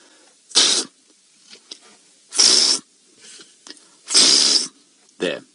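A human voice imitates a topi antelope's alarm call, giving several short, breathy, explosive snorts spaced a second or so apart, close and fairly loud, with quiet breathing between them.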